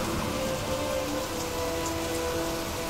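Steady rain pours down around a roadside bus shelter at night, a dense, even hiss of drops on surfaces filling the whole stretch with no breaks and no voices.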